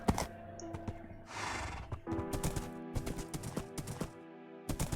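Minecraft horse sounds: a close whinny and neigh with soft clip-clop hooves and a few clicks, alone.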